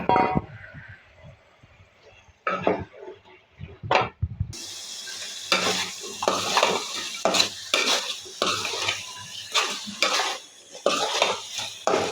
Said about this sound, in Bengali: পেঁয়াজ ভাজতে ভাজতে আমার এদিকে একটু মাছ ভেজে নিচ্ছি, 2 পিস ইলিশ মাছ